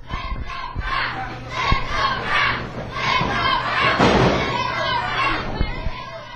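A wrestling event crowd at NWA Atlanta cheering and shouting in a busy, echoing venue, with excited voices, yells and occasional thuds rising and falling under a commentator's speech.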